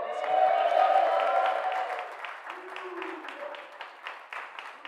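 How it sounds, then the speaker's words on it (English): A darts crowd at a semi-final applauding and clapping, a fairly distant swell of claps that fades over a few seconds, with a voice talking over it. "So obviously, appreciation from the crowd."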